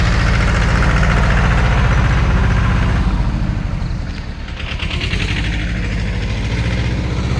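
A tractor engine runs steadily on the way to an orchard, a loud, close, rhythmic diesel throb that dips briefly midway and then continues, with no talk.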